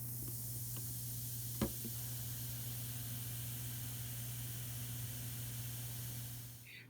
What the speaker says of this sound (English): when you mix together baking soda and vinegar, it releases carbon dioxide gas